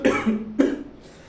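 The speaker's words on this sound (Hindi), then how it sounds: "सॉरी, खांसी आने बहुत ज़्यादा लगी है।" A man coughs twice in quick succession, close and fairly loud, each cough a short harsh burst with a slight vocal tail, in a quiet room.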